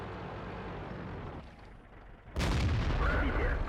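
SU-101 tank destroyer's gun in World of Tanks fires with a sudden loud boom, its blast and rumble holding steady after a quieter stretch of battle noise.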